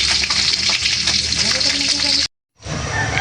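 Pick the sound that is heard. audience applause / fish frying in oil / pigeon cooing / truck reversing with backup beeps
fish frying in oil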